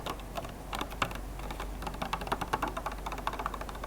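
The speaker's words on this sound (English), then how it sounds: "It's like a really thin, crinkly plastic, and I love it." Fingertips tap and scratch a thin, crinkly plastic tomato container at close range, a rapid, quiet patter of light clicks with faint crinkling and no talking.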